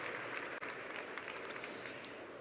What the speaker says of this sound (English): give them a big warm round of applause